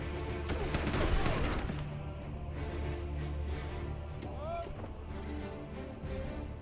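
Cannon fire booms from ships in the pirate video game Sid Meier's Pirates! during an assault on a fortress, a cluster of muffled blasts over a low rumbling game soundtrack.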